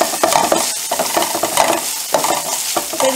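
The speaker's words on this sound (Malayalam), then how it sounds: "അപ്പോൾ ഇത് നന്നായി വഴന്ന് വരട്ടെ." Vegetables sauté in a pan for a Kerala vegetarian lunch, a close, loud sizzle with quick, busy stirring scrapes and clinks throughout, no voices.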